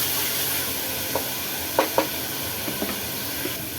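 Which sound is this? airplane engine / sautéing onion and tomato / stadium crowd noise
sautéing onion and tomato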